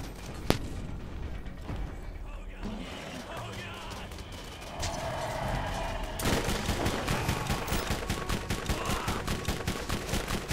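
Rapid gunfire pours out in the video game Borderlands, a dense, continuous rattle of shots that grows faster and louder in the second half over the game's background sound.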